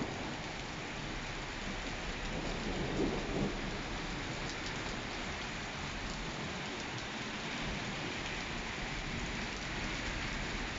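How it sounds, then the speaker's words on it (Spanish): Heavy, steady rain pours down in Paterna in a dense continuous roar, with a faint low rumble under it and no voices. "Fíjese cómo está lloviendo"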